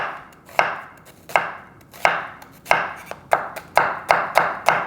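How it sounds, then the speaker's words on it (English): A knife slices through a quarter of a yellow onion on a cutting board, about a dozen crisp, close chops that start spaced out and quicken toward the end, with no talk. "So I have a quarter of a yellow onion here. I'm going to just slice it up."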